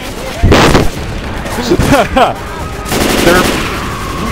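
Gunfire in Left 4 Dead 2 during the Sacrifice campaign, several bursts of shots crackling amid game noise while players talk over it.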